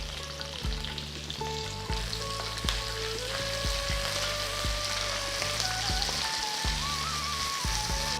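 Thinly sliced onions and curry leaves frying in hot oil, a steady dense sizzle with occasional stirring scrapes, close and continuous with no talking.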